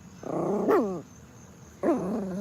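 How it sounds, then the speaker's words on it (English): A dog lets out two close, throaty growling barks separated by a short pause, loud and near with no talk over them. "there is another dog walking behind me"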